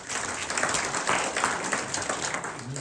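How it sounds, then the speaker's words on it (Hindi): A seminar audience at a Hindi motivational talk on network marketing claps in a dense, steady burst of applause lasting about three seconds, with no voices over it. "सर के लिए तालियां बजाओ।"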